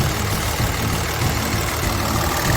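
A Kia Mohave's engine idling in the open engine bay, a steady low rumble with a constant mid-range hum, close and continuous with no talk.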